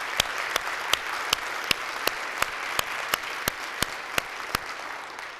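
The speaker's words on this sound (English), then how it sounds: "Can we give them a round of applause?" Audience applause for a church's lay clergy committee, a steady wash of clapping from a crowd with sharp regular claps standing out near the microphone, no talking over it.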